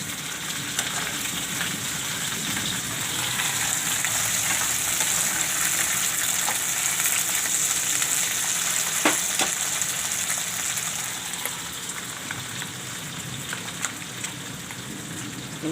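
Okra frying with masala in a pan, a dense continuous sizzle with occasional soft scrapes of stirring, close and steady throughout.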